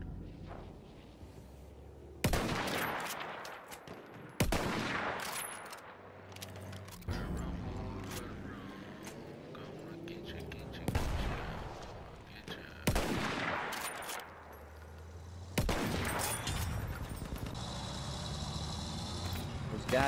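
Gunfire rattles in repeated loud bursts in a shooter video game, several sharp volleys spaced a few seconds apart, with people talking over the action.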